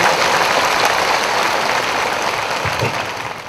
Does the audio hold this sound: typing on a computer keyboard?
no